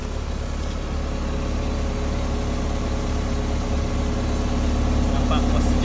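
Rover MGF sports car engine idling, a steady low mechanical drone that holds even and close throughout with no revving.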